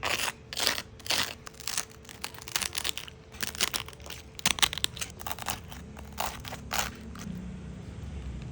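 Crispy fried pork head skin crunches repeatedly between the teeth, loud close bites and chews coming in irregular bursts with short pauses, heard alone without talk.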